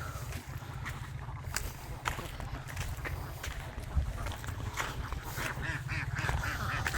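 Ducks quack steadily and loudly at close range in a continuous noisy chorus, with no talk over the flock.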